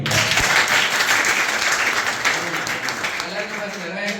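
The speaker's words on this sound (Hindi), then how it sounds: "जोरदार ताली" A crowd applauds loudly at a government school science exhibition, dense continuous clapping close by that gradually thins, with some voices mixed in beneath it.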